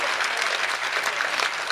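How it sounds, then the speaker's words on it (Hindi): A crowd at a Hindi comic poetry gathering claps loudly on request, a dense, even burst of applause filling the short stretch. "एक बार जोरदार ताली पीट दो"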